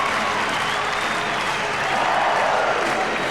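An ice hockey crowd at a Benson & Hedges Cup semi-final between London Knights and Newcastle Jesters roars and applauds steadily after a short-handed goal, a dense, sustained wash of cheering filling the arena.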